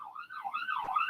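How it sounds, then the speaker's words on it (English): An ambulance siren wails outdoors in rising and falling sweeps, clear and fairly close as it passes, with no one talking over it. "There's a siren. I'm just gonna wait for it to pass. It's an ambulance."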